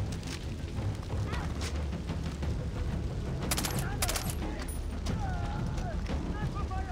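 Gunfire in the jungle of Far Cry 3, dense rapid shots and bursts layered over a constant rumbling backdrop for the whole stretch.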